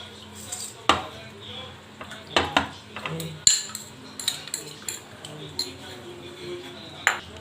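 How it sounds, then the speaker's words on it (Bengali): A spoon clinks against a pot or bowl while cornflour is stirred into liquid for a chicken soup, giving scattered short metallic taps and scrapes, close and moderately loud, with no talking. "একটু কর্নফ্লাওয়ার গুলে নিচ্ছি।"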